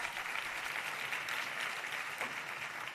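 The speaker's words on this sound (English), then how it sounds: "Let's give her a big round of applause." Audience applause fills a forum hall, a steady dense wash of clapping holding at an even level for about three seconds with no pause.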